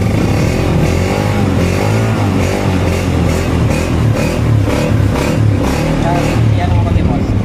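A Rusi or Honda TMX motorcycle engine idles and revs up close, a loud, rough, throbbing clatter with rising surges, while people talk over it.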